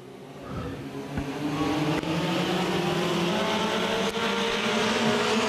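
Mini stock race cars roar past together at Crossville Raceway, a loud, sustained blend of engines with shifting pitches as a three-wide pack comes by the flag stand.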